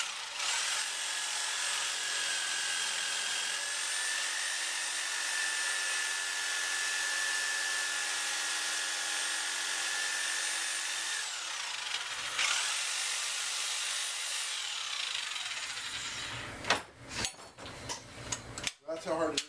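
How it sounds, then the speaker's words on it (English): A sawzall cuts through half-inch hot rolled steel with a steady, loud, whining grind, then falls into clattering knocks as the cut finishes, with voices heard briefly. "That's how hard it is to cut steel with the sawzall."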